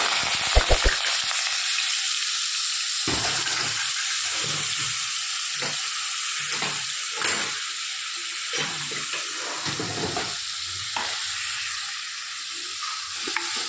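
Poppy seeds, ginger-garlic paste and onion hitting hot oil in a pan for a bhakarwadi curry, a loud continuous sizzle with stirring scrapes and bursts of hissing, no talk.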